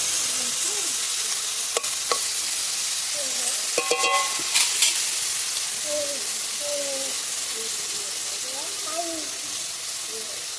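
Soaked chickpeas go into a hot pan of vegetarian vegetables and are stirred, giving a bright steady sizzle with a few clattering knocks and scrapes early on and faint tonal squeaks later, no speech over it.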